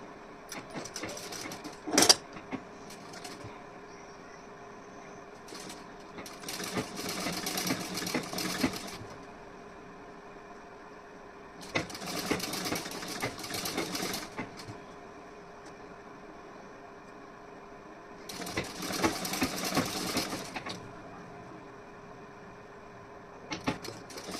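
A sewing machine stitches a designer neckline in several separate runs of steady whirring, each lasting a few seconds, with quieter handling gaps and a sharp click between them.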